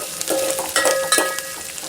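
Onions frying in a pan while being stirred, with a couple of quick scraping strokes and a metallic ring from the utensil over a soft sizzle, close and brief.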